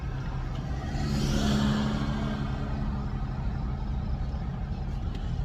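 Steady broadband road and engine rumble fills the whole clip, a continuous roar of passing traffic heard close up through an open car window, with no speech.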